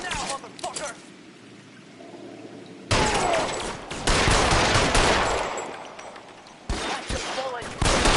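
Gunfire in the LA Noire video game comes as dense bursts of loud rapid shots, broken by a quieter gap where a voice speaks.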